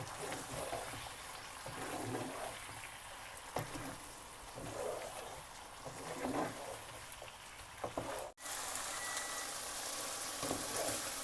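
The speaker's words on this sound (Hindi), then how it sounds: "इसको इसमें भून लेंगे थोड़ी देर।" A steady crackling sizzle of garlic-ginger paste frying in a hot pan for chicken karahi, with occasional clinks of a utensil stirring and a soft voice in the background.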